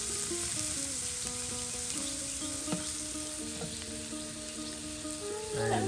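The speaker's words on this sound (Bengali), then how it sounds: "এই দেখুন এখন কিন্তু শুটকিগুলো আওলানো হচ্ছে" Dried rita fish and fried onions stirred together in a pan, a constant frying hiss with a few sharp utensil knocks and scrapes, a faint tonal hum running underneath.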